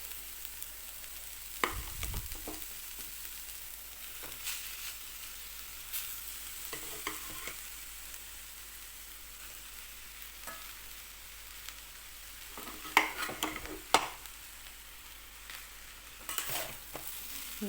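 Cooked rice is stirred together with sautéed large gooseberries and dried red chillies in a pan, giving a soft continuous sizzle broken by occasional scrapes and clinks of the spoon against the pan, fairly quiet and without speech.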